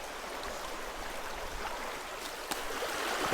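A backyard brook flows through woods with a continuous soft hiss of running water, steady and moderately close, with a few faint splashes near the end and no talking.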